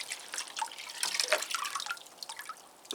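Water is poured over the roots of potted Cattleya orchids, giving a close, irregular patter of drips and trickles that rises briefly in the middle and carries on without any talking.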